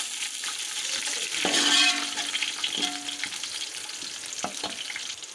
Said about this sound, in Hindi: मोटी इलायची, 8 से 10 जो है काली मिर्चें, हाफ टेबल स्पून ब्लैक ज़ीरा। 30 सेकंड के लिए इसकी भुनाई करूँगी।